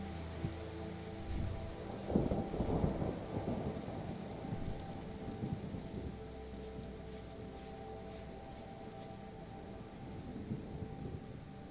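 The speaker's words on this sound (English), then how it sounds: "the atmospheric storms and, like, regional weather is very cool" Thunderstorm with steady rain in the survival game Vintage Story, with a rumbling thunder roll early on over continuous rainfall that stays at an even, moderate level with no voices.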